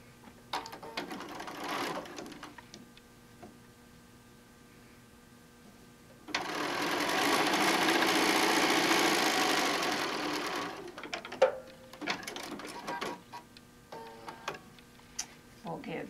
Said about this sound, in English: So we're going to go ahead and sew the bottom piece to it.